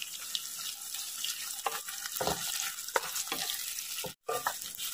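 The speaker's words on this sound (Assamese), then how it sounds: "এতিয়া দিম বিলাহী কাটি লোৱা বিলাহী তাৰপিছত দিম নহৰু আৰু দিম আদা আৰু এতিয়া এইখিনি ভালকৈ লাৰিব লাগিব" Chopped tomato, garlic and ginger fry in a pan over low heat, a steady sizzle broken by several scraping stirs of a spatula and one brief cut to silence near the end.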